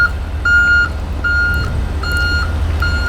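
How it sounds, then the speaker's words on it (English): A truck backing up sounds its reversing alarm, loud evenly spaced beeps repeating about every 0.8 seconds over a low engine rumble. "Oh, there's a truck backing up."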